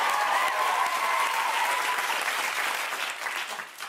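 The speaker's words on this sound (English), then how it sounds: "yeah, we can clap for that" An audience claps steadily as a dense, sustained wash that stays loud throughout and thins slightly near the end.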